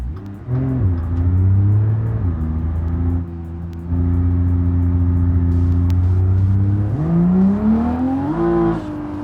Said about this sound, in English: A little bit of drone in the exhaust there, though.